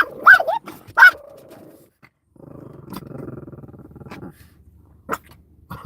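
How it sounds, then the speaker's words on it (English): A dog outdoors gives two sharp, close barks, then a stretch of low rumbling growl-like noise follows with a few faint yips near the end. "I was gonna warn everyone there might be some barking"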